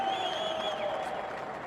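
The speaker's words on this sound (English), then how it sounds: "Let's give the players a big round of applause." Steady crowd applause fills the air at a Test cricket match presentation in Johannesburg, South Africa v Australia, continuing evenly throughout.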